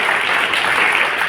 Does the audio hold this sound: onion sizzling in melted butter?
no